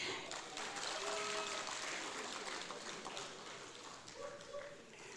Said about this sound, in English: Once again, let's give a round of applause to Sebune.